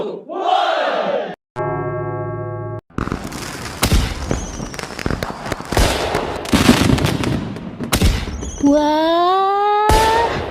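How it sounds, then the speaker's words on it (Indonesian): Cartoon fireworks in an animation burst in a dense run of loud crackling pops and booms, followed by rising whistling tones, with a short musical tone and cheering shouts mixed in. "Nonton kembang api"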